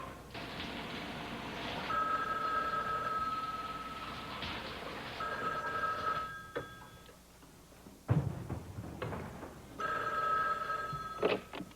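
A telephone rings in repeated electronic bursts separated by short gaps, with a couple of sharp knocks or clicks between rings.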